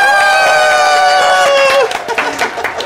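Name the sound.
audience applause and cheering for a guest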